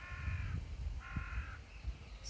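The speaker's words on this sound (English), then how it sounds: "we've also got a crow that's interested," A crow caws twice outdoors, two drawn-out calls at moderate distance over low background rumble and soft thuds, with no speech.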